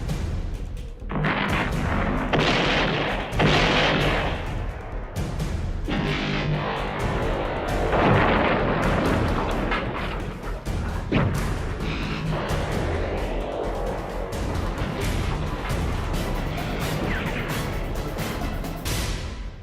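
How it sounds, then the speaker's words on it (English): A spaceship fleet blows apart in a dense, continuous barrage of booming, crackling explosions, loud and layered with repeated heavy blasts throughout. "Look, the rest of the Stowbar fleet is exploding."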